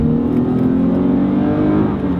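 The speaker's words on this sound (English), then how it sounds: "that doesn't sound like a V8. But still, with the V6, it is quite a punchy car." A Dodge Challenger SXT with a V6 engine accelerating, a steady loud droning engine note heard from inside the cabin, continuous and close with no pauses or voices.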